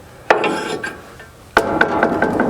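Cut lumber boards, one-inch stock, are dragged back across a portable sawmill's board return in two rough, woody scraping pulls with short knocks, close and fairly loud.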